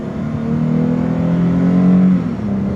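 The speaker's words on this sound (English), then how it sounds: "here's this acceleration test I was going to tell you guys about" A 2021 Chrysler 300 L-Touring AWD accelerates hard from inside the cabin, its engine drone climbing steadily in pitch and loudness for a few seconds before a brief dip as it shifts, with no talk.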